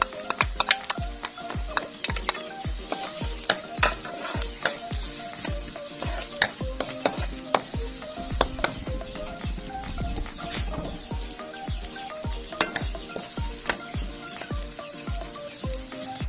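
Onion fries in a pan for a munggo dish while a utensil scrapes and knocks against the pan in a brisk, regular rhythm over a steady close sizzle, with no speech.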